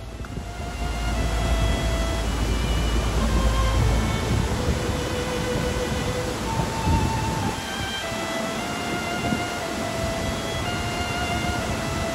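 Steady rumbling roar of a moving train on the Flåm Railway in Norway, with broadband noise and faint whining tones, continuous throughout, no voices.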